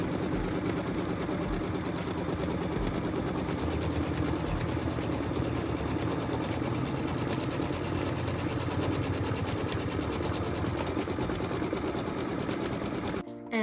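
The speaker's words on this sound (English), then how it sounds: "So we're stitching that final outline stitch and cut line right now." Continuous steady whir of a sewing machine stitching the final outline and cut line around a quilt block, running unbroken and fairly loud for the whole stretch before stopping abruptly at the very end.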